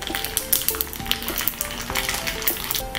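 Mustard seeds splutter and pop in hot coconut oil with dried red chillies and fenugreek, making a close, busy crackle of sharp irregular pops over a steady sizzle.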